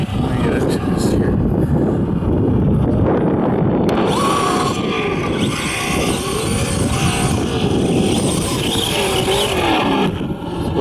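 Traxxas Slash 4x4 RC car with an LCG VG Racing chassis brace and Badlands tires driving, its electric motor whining and rising and falling steadily throughout at close range, with a person talking over it.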